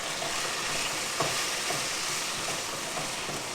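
Okra pieces tossed with salt, chili powder, turmeric and coriander powder frying in a pan, giving a dense, even sizzle with soft occasional stirring scrapes, close and continuous.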